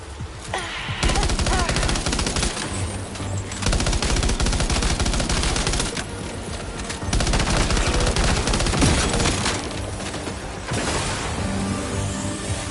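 Gunfire in the video game Death Stranding 2: dense, sustained bursts of rapid shots, loud and close, with a short pause near the middle and more volleys after it.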